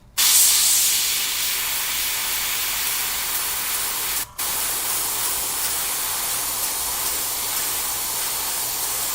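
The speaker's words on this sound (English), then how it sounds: "Before I do that, let's spray this here" A spray can lays a light coat of paint onto the midsole of a Jordan 3 sneaker being repainted, a steady close hiss running continuously with one brief break partway through.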